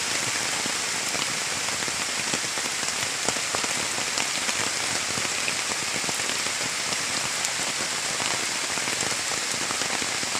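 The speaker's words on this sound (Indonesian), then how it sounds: "Hujan mulai turun teman-teman" Heavy rain falls at a forest campsite near a bamboo shelter, a dense, constant hiss of drops hitting surfaces all around, steady and unbroken.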